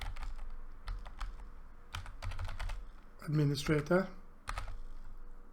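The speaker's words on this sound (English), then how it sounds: "I type in the password that I've used" Quick irregular keystrokes on a computer keyboard as a password is entered while adding a PC to a network domain, close and crisp, with a short burst of speech in the middle.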